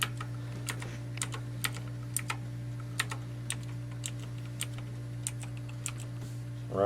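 Keys on a mechanical keyboard are tapped one at a time in an irregular rhythm of distinct clicks over a steady low electrical hum.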